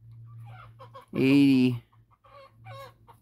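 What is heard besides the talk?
chickens clucking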